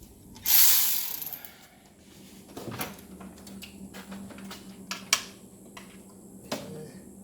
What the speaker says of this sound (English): I'm going to go ahead and start loosening all these bolts here for the rest of the supercharger